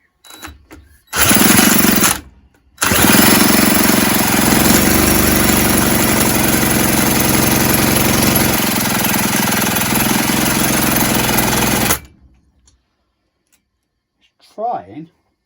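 An old 1970s Puch E50 two-stroke moped engine is cranked and fired up, bursting into a loud, buzzing, rattling run after a brief false start, then cutting out into near silence before a brief voice.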